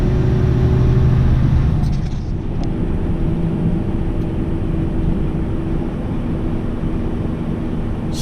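A semi truck's engine rumbles steadily from the cab while driving and taking a slow turn, its low drone easing slightly partway through.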